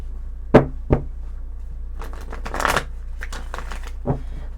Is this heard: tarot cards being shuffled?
yes